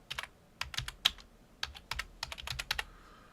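Rapid, uneven bursts of keystrokes on a computer keyboard during 3D modelling work, close and fairly loud with short pauses between clusters of clicks, no voice.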